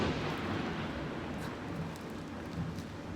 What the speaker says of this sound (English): I don't know if you all can hear the thunder in the background, but we're about to have a thunderstorm.